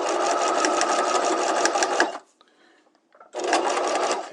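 A sewing machine stitches a side seam near an in-seam pocket, running fast and loud for about two seconds, pausing briefly, then starting up again.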